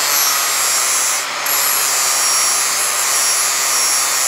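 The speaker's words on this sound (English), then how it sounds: "if I start my grinder, it's now using an extra 300 watts, and I can work away" A handheld grinder running off a portable power station during an Alfa Romeo 105 build, giving a loud, steady high-pitched whine with one brief dip partway through.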